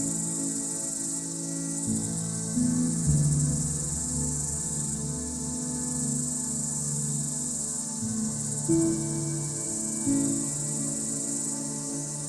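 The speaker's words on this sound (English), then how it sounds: "Cicadas are fascinating insects known for their loud, distinctive songs and unique life cycles." Cicadas singing in a loud, continuous buzzing drone with slowly shifting tones, steady throughout and close by, with no voices.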